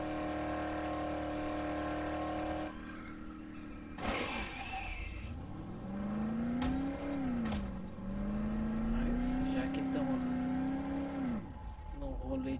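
A car drives in the Dead Island Definitive Edition video game, its engine tone rising and falling steadily with shifting revs over several seconds, loud and continuous after an earlier steady hum and a sharp crash-like burst.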